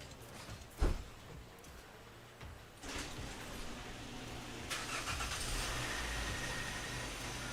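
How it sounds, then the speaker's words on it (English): A car engine cranks over and catches, then settles into a low, steady rumble that grows slightly louder, heard faintly at a distance with no talking over it. "I even hear car engine sounds now"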